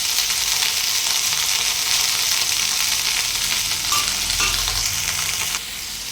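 Ridge gourd peel and green chillies fry in a pan, a loud, dense, continuous sizzle close by, with a few faint clicks of stirring before it eases slightly near the end.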